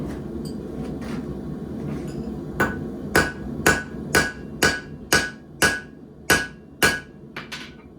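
Hammer blows tighten a pair of modified old flat blacksmith tongs, about a dozen sharp metallic strikes in a steady rhythm after a few softer taps, close and loud with no talk.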